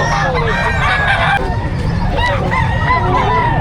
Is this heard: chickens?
yes